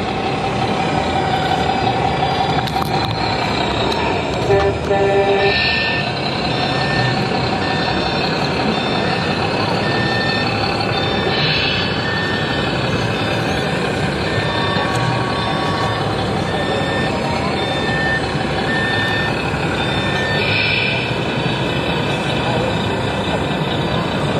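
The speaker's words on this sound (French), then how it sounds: "T'entends le V8 diesel d'ici." A heavy V8 diesel engine rumbles steadily throughout, with a reversing beeper sounding intermittently and faint voices in the background, at an American car meet.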